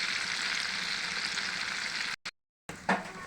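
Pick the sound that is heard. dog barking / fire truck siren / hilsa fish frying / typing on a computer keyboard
hilsa fish frying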